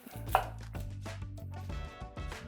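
A knife cuts the top off a red onion on a cutting board with a single crisp chop, followed by softer board taps and handling in a quiet kitchen, no talking.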